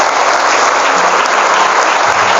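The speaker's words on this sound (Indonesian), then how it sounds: "Tepuk tangan dan applause untuk kita semuanya." Loud, dense applause from a crowd of pesantren students at a motivational session in Tangerang, continuous clapping that holds steady for a couple of seconds without speech.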